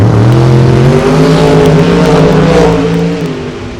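Turbocharged drag race car at a Topeka race event revving up as its turbos spool, a loud close roaring engine note climbing in pitch with layered whine, then easing off slightly at the end.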